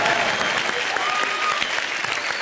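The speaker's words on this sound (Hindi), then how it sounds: "एक बार जोरदार तालियां हो जाए भारती सिंह और मेरे लिए।" Studio audience at a televised Hindi comedy show applauding, a dense, steady burst of clapping throughout, loud and close with no speech over it.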